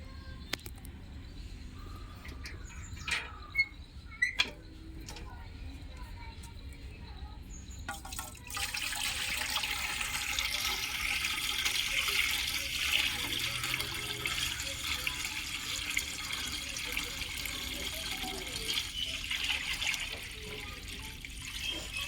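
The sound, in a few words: water poured into a pot to heat on a clay stove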